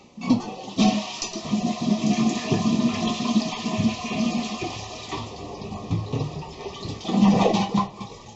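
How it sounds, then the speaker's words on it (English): A toilet flushes during removal after its water supply is shut off, a loud rushing swirl that drains over several seconds, then a second surge of water near the end, close up with no talking. "Then you want to flush it."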